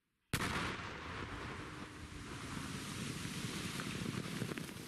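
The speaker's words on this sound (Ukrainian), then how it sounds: "Ось такі вибухи на Уманщині лунають і дотепер. Так сапери ДСНС знищують боєприпаси" A sudden loud blast from a controlled demolition of ammunition near Uman, Ukraine, followed by a long rumbling, crackling roar of debris and rolling echoes that continues without letup.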